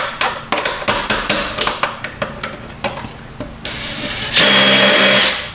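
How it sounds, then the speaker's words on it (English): Sharp metallic hammer blows knock rivets out of holes in a front door being taken apart, about a dozen quick, close strikes in an uneven rhythm, followed by a steadier whirring tool sound near the end. "I'm gonna knock the rivets here out of these holes"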